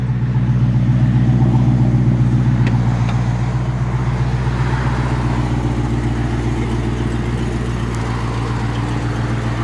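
A 700-horsepower Dodge Hellcat's V8 rumbling loudly up close, its throaty pulsing exhaust rising and settling through a steady rev with no voices over it.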